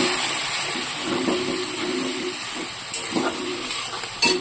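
Water poured into hot frying masala for a small-egg curry: loud steamy hiss from the pan that settles into a steady sizzle, broken by a few clinks near the end.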